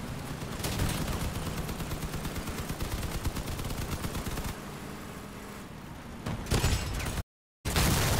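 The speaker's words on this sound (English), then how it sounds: "Oh my God, he shot you with a cannon." Heavy cannon fire striking a vehicle in the vehicular combat game Crossout, a dense run of loud bangs and impacts with a brief silent gap near the end.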